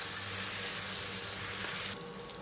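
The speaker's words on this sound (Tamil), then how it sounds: "தக்காளி நல்லா பொடியாக கட் பண்ணி சேர்த்துட்டு மசிகிற அளவுக்கு வதக்கிக்கலாம்" Finely chopped tomatoes sautéing in a pan, a soft steady sizzle and hiss that drops slightly in level near the end.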